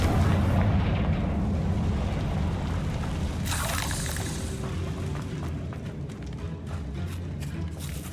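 A Confringo spell explodes in the video game Hogwarts Legacy: a heavy, rumbling fiery blast that swells, then a sharper burst mid-clip and a long fading roar.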